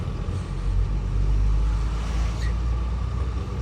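A truck hauling rice husk rolls along a road, a steady low rumbling engine drone, close and continuous with no talk.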